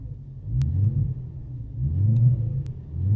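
BMW M3 E92 with a modified exhaust given two small revs from idle, each a brief swell of deep, booming engine rumble that settles back to a low drone.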